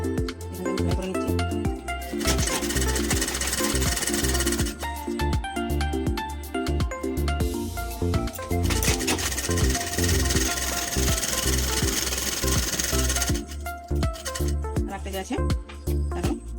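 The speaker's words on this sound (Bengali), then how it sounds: "প্রথমে পায়ের দিকগুলো সেলাই করে নিতে হবে।" A sewing machine stitches the leg seams of small children's half pants. Its motor runs in fast, loud, continuous bursts with brief stops between runs, close to the listener.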